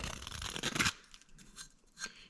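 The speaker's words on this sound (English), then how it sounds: "it works great for stripping your burrs off of your piping after you cut it" Handheld deburring tool scraping burrs off the edge of freshly cut pipe, a close, quiet rasping scrape for about a second followed by a few faint short scratches.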